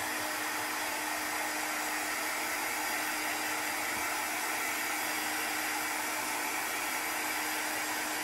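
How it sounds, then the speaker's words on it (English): Steady, even whoosh of a hair blow dryer running close and continuously while it dries chalk paste on a craft project, with no pauses or voices. "and then we'll blow dry it."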